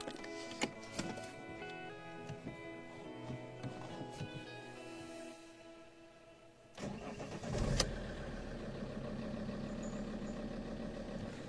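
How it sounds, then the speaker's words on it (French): An Alfa Romeo car engine cranks and catches after a stretch of ticking and clicking, following a power steering fluid change, then settles into a steady, low idle that continues to the end. "On va démarrer le moteur et puis on va voir ce que ça donne."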